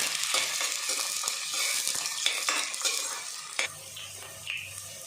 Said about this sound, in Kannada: ಒಗ್ಗರಣೆಗೆ ಈರುಳ್ಳಿ ಹಾಕೋಣ.